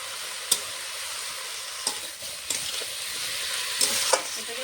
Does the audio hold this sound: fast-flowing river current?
no